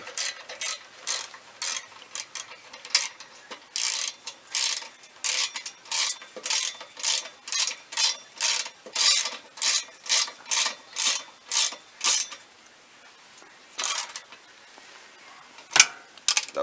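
A ratchet wrench tightens 14 mm bolts on an Invidia catless downpipe fitted to a 2013 Subaru STI: quick, regular bursts of metallic clicking, close and fairly loud, pausing briefly near the end before a final few strokes.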